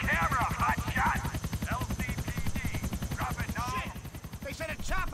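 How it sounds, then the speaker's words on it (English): Police helicopter in Grand Theft Auto IV, its rotor thumping in a steady rapid chop throughout, loud and close, with gunfire and shouting voices mixed over it. "They sent a chopper after us."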